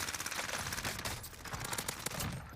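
Automatic gunfire rattles in Call of Duty Warzone, with rapid crackling bursts running almost continuously, dense and moderately loud over a busy game mix.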